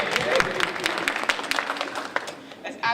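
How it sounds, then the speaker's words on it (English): An audience claps for a man named Jerry, a scattered burst of hand claps at moderate level that runs under spoken voices and thins toward the end. "Everybody clap and give Jerry a round of applause."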